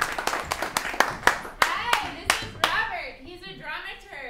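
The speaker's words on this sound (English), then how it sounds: "Guests, a round of applause for them." Guests are welcomed with clapping on a theater show: about nine crisp, evenly spaced claps ring out close by, then fade as someone begins talking.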